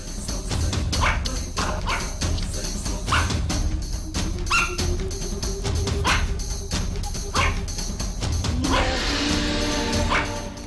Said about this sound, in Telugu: డాగ్స్కి ఎప్పుడైనా డిఫరెంట్ సెన్స్ కలిగినప్పుడే అలా అరుస్తూ ఉంటాయి